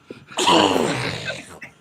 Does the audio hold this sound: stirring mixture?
no